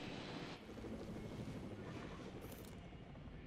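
A helicopter in the Jurassic World Evolution video game gives off a faint, steady whirring rotor wash that holds for a few seconds. No one speaks.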